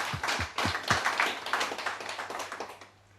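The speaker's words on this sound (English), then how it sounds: "I'd like to give her a round of applause," A live audience claps together at a talk, a steady patter of hands that swells early then tapers off near the end, fairly close and loud with no one speaking.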